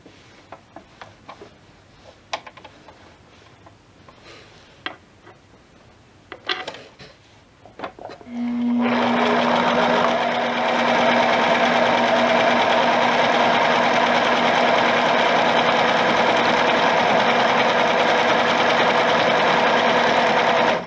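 A sewing machine stitching around the edge of a baby bib, running in a loud, continuous, rapid whir after several seconds of quiet handling clicks and fabric adjustments.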